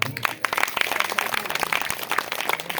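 Audience of mothers and devotees clapping at a Shrimad Bhagavat Katha in Sonbhadra, Uttar Pradesh: continuous dense applause from a nearby crowd, steady throughout.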